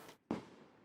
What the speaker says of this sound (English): pop the fireworks or something